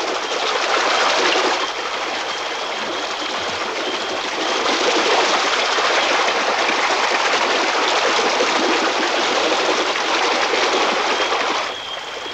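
River water churning and seething as if boiling, stirred up by a swarm of piranhas in the Amazon; a loud, dense, continuous rushing hiss with small surges, without speech.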